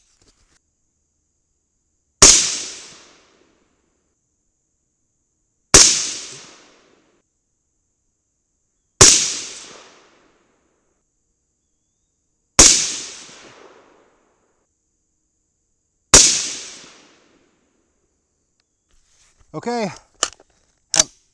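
Five 5.56 rifle shots with 75gr Swift Scirocco II bullets crack out at evenly spaced intervals of about three seconds, each sharp and loud with a short decaying tail, followed by a brief word and some handling noise.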